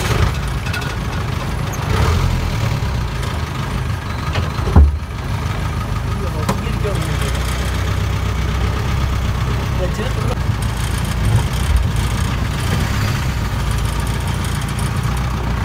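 A Mahindra jeep upgraded from 2WD to 4WD, with a wide axle tube and disc brakes, rumbles steadily as it is driven. The engine noise stays close and even, broken by one brief knock.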